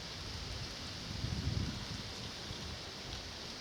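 Steady rain pattering and dripping onto woodland leaves overhead near Selworthy, a soft continuous hiss with scattered heavier drops and no voices.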